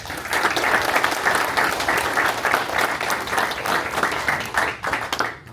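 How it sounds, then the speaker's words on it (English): A room full of people at a school board workshop meeting applauds students being recognized, sustained even clapping from many hands at moderate level, continuing without a break before tapering at the end. "So let's give one more round of applause to all of them."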